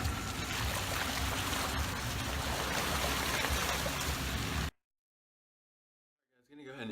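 A backwoods creek rushes in a dense, steady wash of flowing water close by for several seconds before cutting to silence, with a faint voice coming in at the end.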